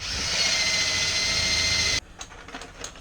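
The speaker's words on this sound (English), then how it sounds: "We're going to drill 12 holes now." A power drill whines loudly and steadily for two seconds while drilling holes in a rat rod hot rod build, then cuts off, followed by quieter scraping and clinking.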